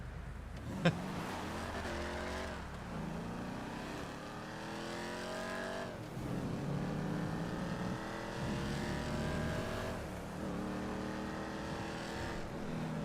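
A car engine runs and revs in repeated rising sweeps, climbing and dropping in pitch several times, fairly quiet and steady with no one talking.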